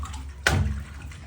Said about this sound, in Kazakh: Жібердім тағы да су.